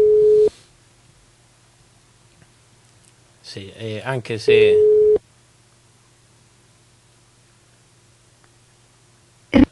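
A telephone line tone sounds in two steady beeps, one at the start and one after a short burst of speech, with a low hum running beneath during attempts to add a caller by phone.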